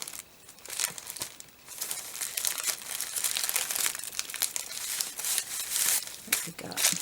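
Pattern paper is handled and crinkled for a shabby vintage craft tag, a close, continuous run of crisp rustling and crackling bursts that rise and fall in loudness, with no voices.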